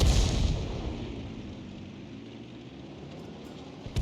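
Artillery fire in World of Tanks, a heavy boom at the start that decays into a long rumbling tail and fades across the following seconds.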